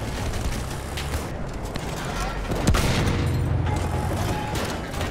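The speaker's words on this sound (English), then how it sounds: "There's a machine gun." Sustained automatic gunfire from a machine gun in Battlefield 1 rattles through dense battlefield noise, loud and continuous, with a heavier blast midway and a tank's rumble beneath.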